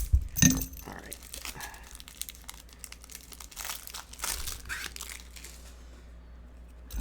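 A trading card pack wrapper is torn open up close, with a sharp initial rip followed by scattered crinkling and rustling of the foil wrapper that fades toward the end.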